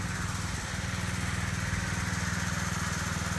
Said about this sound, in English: hopefully you can hear me okay over the air compressor